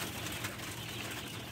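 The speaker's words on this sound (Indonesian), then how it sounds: "ini anak burung puyuh yang berumur 25 hari" Twenty-five-day-old quail chicks in a crowded cage of about seventy birds, a continuous chorus of soft chirps and cooing calls at low, steady volume with no talk.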